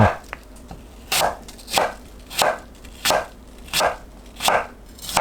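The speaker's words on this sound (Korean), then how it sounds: "사과를 채 썰어주세요" A knife chops steadily through apple on a cutting board, cutting it into thin julienne strips. Sharp, evenly spaced thuds come about every two-thirds of a second, close and clear, with no talking.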